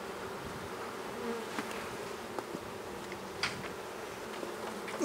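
Honey bees buzz steadily throughout a hive inspection while smoke is used on the colony, a dense, moderate drone with a few louder passes as individual bees fly near.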